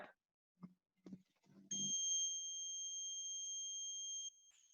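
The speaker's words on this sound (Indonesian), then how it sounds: "Jika pin 7 ditekan, maka buzzer akan berbunyi" A few soft clicks and taps, then an electronic buzzer gives one steady, high-pitched beep lasting about two and a half seconds before cutting off.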